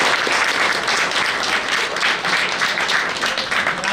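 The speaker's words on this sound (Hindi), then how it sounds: "तो तालियां जरूर होनी चाहिए।" Dense, sustained applause from a crowd at the retirement ceremony of Radhey Shyam Pandey, a steady wash of many hands clapping together without a break.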